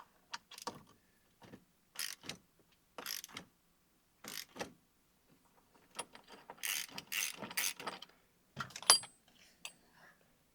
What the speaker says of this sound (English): tighten this down. And what will happen is as that pushes down, it's going to pull on the steering wheel and pop it off those splines